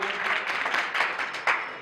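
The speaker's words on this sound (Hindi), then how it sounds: "बजाइए एक बार सरपंच साहब के लिए जोरदार तालियां" Applause for the sarpanch at a village cricket league auction event, a brief burst of clapping from a gathered crowd, fairly close, with a few louder individual claps toward the end.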